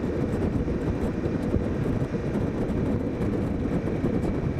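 Motorcycles, a Suzuki DL800RE and a BMW R1200 GS Adventure, ride through shallow seawater on the way to Holy Island, giving a dense, continuous roar of engine and rushing water, loud and close without pause.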